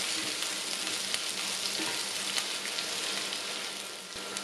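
Onions sautéing in a pan for vegetable pulao, a steady dense sizzle and crackle of frying with faint stirring, close and continuous throughout.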